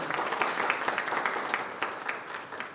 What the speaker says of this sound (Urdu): ایک دفعہ زوردار تالیوں کے ساتھ اس پروگرام کا آغاز کرتے ہیں۔